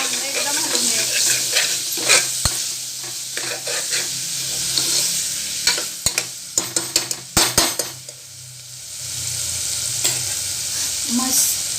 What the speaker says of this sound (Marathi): चांगलं एकदम हलवून घ्यायचं